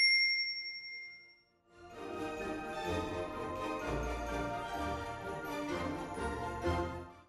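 A notification bell gives a single bright, ringing ding that fades over about a second. A short gap follows, then steady background music plays to the end.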